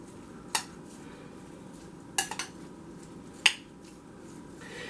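Cabbage roll filling of raw meat is mixed in a bowl, a low soft churning under a few sharp utensil clinks against the bowl's side, spaced irregularly and close by.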